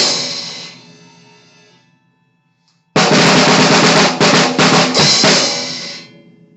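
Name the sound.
snare drum fill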